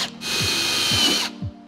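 A power drill drives sheet metal screws into a car body kit on a Mercedes SL500, one steady loud whirring run of about a second, close up, with a few small clicks and knocks at either end.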